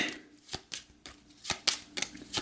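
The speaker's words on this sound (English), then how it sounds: "Then I'll shuffle up the starting deck." Deck of cards for the board game Gaia Project riffled and shuffled close up, a run of crisp papery bursts and flutters in quick irregular succession, with no talking.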